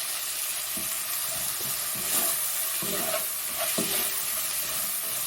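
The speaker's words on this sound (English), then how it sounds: "I'm also going to be adding my garlic and cook them until they go a bit soft." Onions and garlic fry in a pan for a meat pie filling, giving a steady close sizzle with occasional soft stirring scrapes and clicks throughout.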